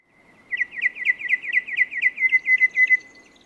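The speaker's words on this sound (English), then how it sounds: "You can hear that all these birds are different" Several wild birds in inland New South Wales, Australia, call in a quick run of bright, repeated chirps and trills, loud and close, with other faint calls behind.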